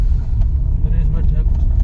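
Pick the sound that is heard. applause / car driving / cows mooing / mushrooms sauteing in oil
car driving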